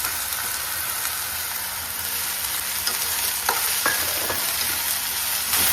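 Chopped ridge gourd hits a hot pan in a home kitchen and cooks with a steady, loud sizzle and frying hiss, with a few light stirring knocks and no talking.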